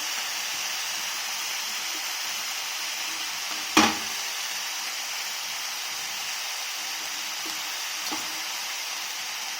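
Amaranth leaves fry in a pan with a steady, even sizzle throughout, broken by one sharp clatter partway through and a fainter knock near the end.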